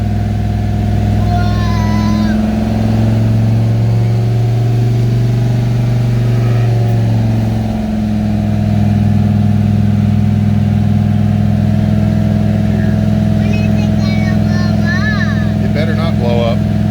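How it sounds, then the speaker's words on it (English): A truck engine on a dyno runs loud and close, climbing through a long rev with a strong droning hum, then easing back before building again, with voices talking briefly over it. "Dynoing a car."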